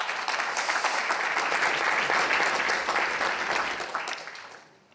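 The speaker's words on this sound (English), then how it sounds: "let's give a round of applause to them as well" Sustained audience applause for sponsors at a climate resilience event, steady dense clapping filling the room, then tapering off at the end.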